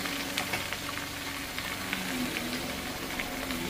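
Chopped onions sizzle and crackle in hot oil in a frying pan, a steady close hiss with light stirring scrapes throughout and no voices.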